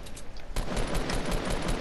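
Fortnite gunfire: a dense, continuous burst of rapid shots that thickens after a brief start and stays steady and loud throughout, with no speech.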